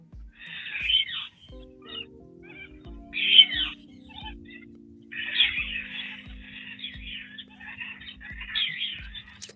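Wild Australian parrots call in a series of harsh, bright squawks from a moderate distance, with a low steady hum and faint clicks underneath.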